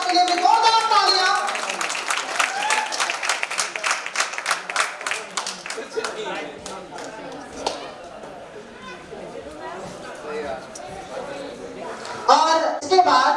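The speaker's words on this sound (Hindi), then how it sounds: "जोरदार तालियां।" An audience at a Louis Braille birth anniversary ceremony gives loud, dense applause that gradually thins out, with chatter and voices mixed in.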